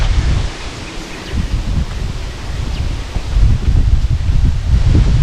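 Strong wind blows past the microphone beside the Citanduy river in the countryside, a loud continuous roar with rustling gusts that build toward the end, and no voices.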